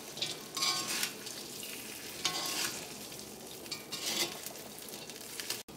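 A pepper chicken fry is stirred in a hot pan, with steady sizzling and bursts of scraping and stirring close by, and a sharp knock near the end.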